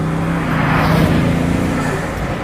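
A Bugatti Grand Sport Vitesse drives through corners, its engine a steady, loud, close-up roar that holds throughout with slight swells.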